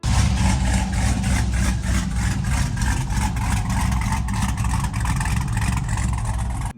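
Idle of a Chevrolet Silverado 4.8 V8 fitted with a stage 2 BTR cam, a loud, close, continuous rumble with a lumpy, pulsing rhythm throughout, no talking.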